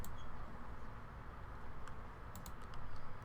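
Loud computer keyboard typing, close and steady: a continuous run of rapid clicky keystrokes with a few sharper key hits, over a faint background hum.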